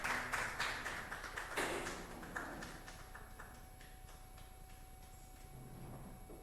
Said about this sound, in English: Please, let's welcome her with a clap.